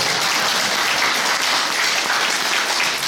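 Audience at a Catholic human rights Sunday seminar on environmental policy breaking into applause, a loud, dense, continuous roar of many hands clapping close by, holding steady throughout with no speech over it.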